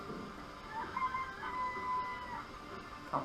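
Chickens in the Danganronpa: Trigger Happy Havoc video game give a few short clucks and squawks, fairly faint against a quiet background hum.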